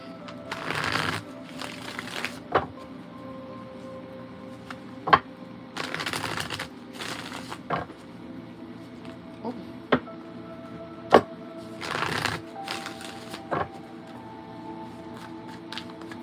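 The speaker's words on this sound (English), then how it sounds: "let me get a good shuffle real quick" A deck of tarot cards being shuffled in several short riffling bursts spread across the span, each a brief papery rush, with occasional small taps and clicks between them in a quiet room.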